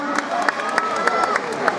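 A stadium crowd at the Herculis 2017 athletics meeting applauds steadily during a women's 1000m race, a dense, even wash of clapping with faint rhythmic accents, under a commentator's voice.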